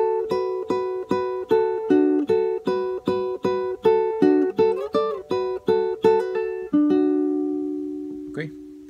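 Guitar plays a Peruvian waltz phrase, a run of plucked notes in lively triple rhythm, ending on a sustained ringing note and a faint final pluck, with no talking.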